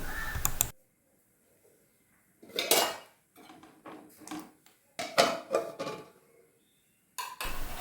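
A metal lid clatters onto a cooking pot on the stove, several sharp clanks and scrapes of metal on metal, close and fairly loud, with quiet gaps in between.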